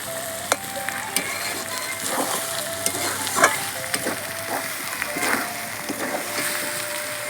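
Water poured into a sizzling chicken curry with potatoes in a pan, with a loud close frying hiss broken by a few sharp clinks and stirring scrapes.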